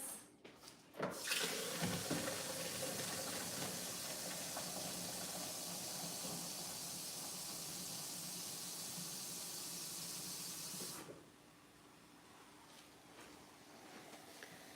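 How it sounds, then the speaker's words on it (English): Water pouring from a tap into a drink mix flavored with extract and stevia, a steady loud hissing rush for about ten seconds that then cuts off, leaving quiet room tone. "I'm going to add some water to this."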